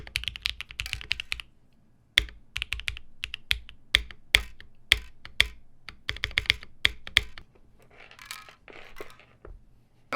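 Typing on a mechanical keyboard with Dye-Sub PBT keycaps, crisp rapid clacks in bursts with short pauses, close and alone with no voices.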